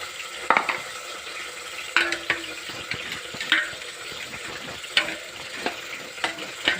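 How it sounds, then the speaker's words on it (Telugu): Brinjal and salt being mixed in a sizzling pan, with steady frying hiss and regular spoon scrapes and taps against the metal, close and fairly loud, no voices. "వంకాయ వేయండి లోపల దీని సరిపడా సాల్ట్ వేసుకుని కలుపుతుంది"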